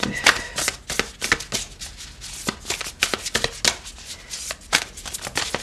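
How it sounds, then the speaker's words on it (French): Tarot cards being shuffled by hand, a rapid run of crisp riffling flicks and soft slaps, close and moderately loud, with no talk over it. "On va prendre une carte du tarot."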